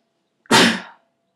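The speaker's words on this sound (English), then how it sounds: "I'm going to sneeze" A single close, loud sneeze, sharp and brief, after a short intake of breath, then quiet.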